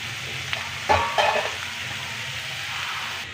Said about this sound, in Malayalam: ഇനി ഉള്ളി നല്ലവണ്ണം ഒന്ന് വഴന്ന് വരട്ടെ